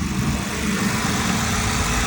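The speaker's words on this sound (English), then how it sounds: "See, the car start." A 2008 BMW's engine idles steadily right after starting, a close, even mid-to-low rumble with slight vibration and no talk.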